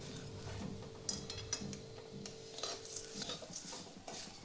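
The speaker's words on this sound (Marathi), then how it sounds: "मीडियम गॅसवरतीच पोहे भाजायचे आहेत" Flattened rice dry-roasting in a pan over medium heat, with a soft dry rustling and scraping as a spoon stirs it, punctuated by faint utensil ticks against the pan.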